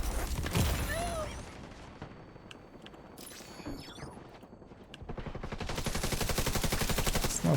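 Airburst weapon fire in a video game: a burst of rapid shots, then a quieter stretch with whooshes and distant pops, then a loud, sustained rattle of rapid fire. Faint speech runs underneath.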